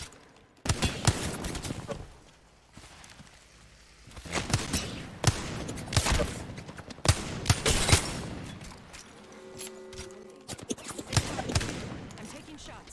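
Apex Legends gunfire in a battle royale endgame: bursts of sharp rifle shots and rapid volleys, some close and punchy, others quieter, separated by brief lulls, with a player talking between the shots.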